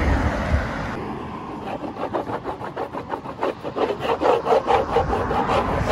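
Wax rubbed onto a brand new surfboard in quick back-and-forth strokes, a close, rasping scrape that starts smooth and settles into a steady rhythmic pattern of about two strokes per second.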